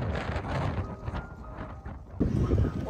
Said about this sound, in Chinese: 风好大呀，呼呼的吹